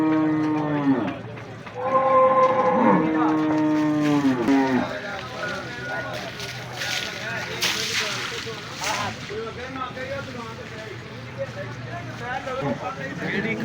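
Buffalo lowing at a Kharian livestock market in Punjab, with one long moo at the start and more calls through a busy crowd of voices and market bustle.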